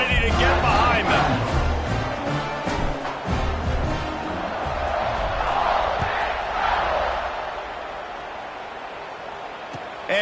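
Stadium crowd noise at kickoff in College Football 26, with Auburn playing: a loud, steady wall of roaring fans under the game's announcer commentary, swelling slightly mid-clip and easing toward the end.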